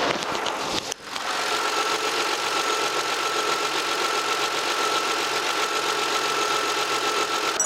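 After a single dull thump, the LPG engine of a Hyundai Grandeur 2.7 LPI sedan idles with a steady, low hum and a faint rhythmic knock, close and constant.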